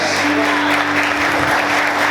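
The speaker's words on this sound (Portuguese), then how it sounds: "Quantos podem aplaudir o Senhor?" A church congregation applauds in sustained, dense clapping that fills the space evenly, loud and close, with a low hum beneath it.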